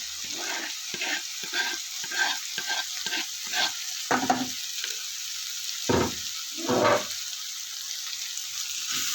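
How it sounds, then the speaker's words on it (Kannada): Grated ginger, green chilli and coriander fry in a pan under a constant sizzle, with repeated rhythmic scrapes of a spatula stirring through them. "ಇದನ್ನೆಲ್ಲ ಮತ್ತೆ ಚೆನ್ನಾಗಿ ಫ್ರೈ ಮಾಡ್ಕೊತಾ ಇದ್ದೀನಿ ನೋಡಿ ಪಟಾಪಟ ಅಂತ"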